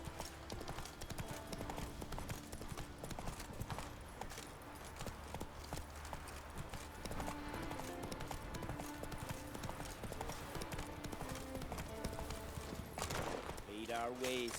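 Horse Roach from the game The Witcher 3 gallops in steady, fast clip-clop hoofbeats throughout, set under game music and a brief voice near the end.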